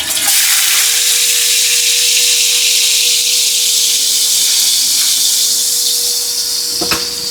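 Small Spanish mackerel fish frying in oil, a steady loud hiss and sizzle that holds evenly throughout with a brief crackle burst near the end; no talking.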